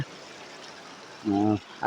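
A river flowing in a steady, soft wash of water. A short voice cuts in near the end.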